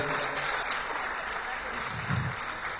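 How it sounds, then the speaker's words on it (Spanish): Sustained audience applause at a parish conference during Life Week, a steady dense wash of clapping filling the room throughout. "Vamos a agradecer con un fuerte aplauso."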